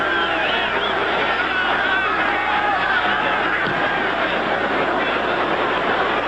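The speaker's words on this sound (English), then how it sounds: "Capacity crowd here at Soldier Field" Dense, steady crowd murmur from a capacity audience at Soldier Field during a 1980 Monday night Bears football game against Tampa Bay, a broad continuous roar with no single voice standing out.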